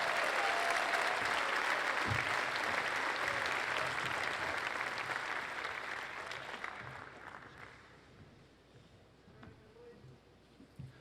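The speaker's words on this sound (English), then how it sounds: "let's have a big round of applause for all of our state-winning sports writers" A banquet audience applauding sports writers at an awards dinner: dense, loud clapping that swells and then fades away over several seconds, with a murmur of voices beneath.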